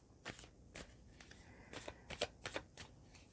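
Tarot cards are shuffled near the mic in a quiet room: a series of crisp riffling bursts, around eight short flutters with small pauses between them.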